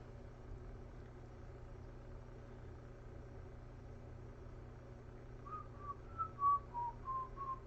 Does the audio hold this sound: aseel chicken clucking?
no